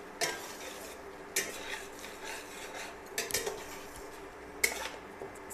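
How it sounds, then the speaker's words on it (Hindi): A spoon scrapes and rubs through thick masala as tomato paste is stirred in a pan. Irregular grating strokes come with a few louder knocks against the pan rim over a low background hiss, and no one speaks. "अभी मैं इसमें ये टमाटर पेस्ट डाल देती हूँ। अच्छे से मिला लेती"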